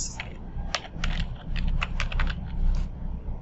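Code being typed on a computer keyboard, a quick irregular run of close key clicks over a faint low room hum.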